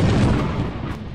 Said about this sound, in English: He shoots you with his gun.